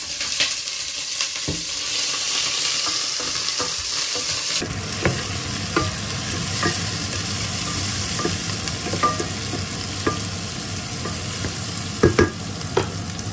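Adobo cooking in very hot oil, a loud continuous close sizzle with scattered spattering pops and a few stirring clinks near the end.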